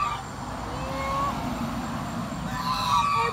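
Geese kept with a flock of ducks honk in a farmyard, a few drawn-out honks over a steady background rumble, moderately close.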